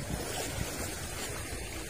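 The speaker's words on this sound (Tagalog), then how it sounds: "Medyo maalo ng konti guys." Choppy sea waves at a beach near Tagbilaran port rush and wash continuously, a steady broadband surf roar with wind buffeting the microphone.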